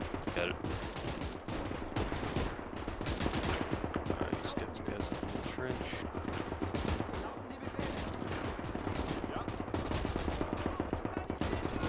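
Maxim machine gun fire in the Gates of Hell battle game, a dense unbroken rattle of rapid shots that stays loud and close, with other gunfire layered into the combat din.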